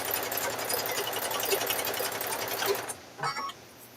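A sewing machine stitches a fabric-wrapped rope bowl in a fast, even mechanical whir that runs for a few seconds, then stops and is followed by a brief short burst, with no talk.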